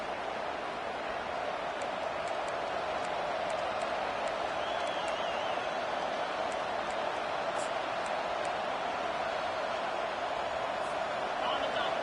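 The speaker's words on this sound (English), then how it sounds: "This crowd, full throat, splitting the eardrums" A football stadium crowd roars in a steady, dense wall of noise that never lets up, with broadband cheering filling the whole span at loud, constant level and a voice faintly under it.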